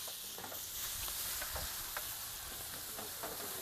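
Venison chili frying and sizzling in a hot pan with a splash of Jack Daniels, a steady loud hiss with occasional stirring scrapes, no voices.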